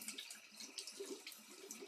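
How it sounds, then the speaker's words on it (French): Cleaned silverware being rinsed under running tap water, a steady close splashing stream with small clinks, faint and continuous. "Je vais rincer juste la partie que j'ai faite."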